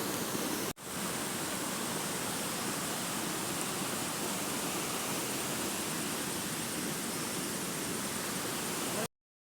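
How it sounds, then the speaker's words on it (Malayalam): A waterfall roars in a constant, dense rush of falling water, loud and close, after a brief break near the start. "വെള്ളച്ചാട്ടത്തിൻ്റെ ആ കാതോർക്കുന്ന ആ ഒരു ശബ്ദമുണ്ടല്ലോ"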